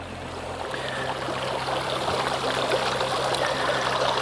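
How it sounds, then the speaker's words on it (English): A backyard garden fountain with an eight-foot-wide water basin trickles and splashes in a steady, continuous stream, moderately close, with no talking. "The water portion of the fountain of the base is 8 feet across."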